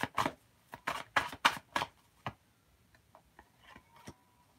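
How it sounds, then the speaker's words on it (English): Tarot cards are shuffled by hand in a series of crisp, close slapping clicks, about six strong ones in quick succession followed by softer, scattered taps. The sound is quiet overall and there is no talk. "Let me shuffle these cards, make sure."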